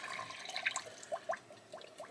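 Tap water being poured into a filter pitcher, a short trickling, splashing pour with gurgling drips, close and quiet.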